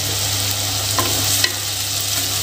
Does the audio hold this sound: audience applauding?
no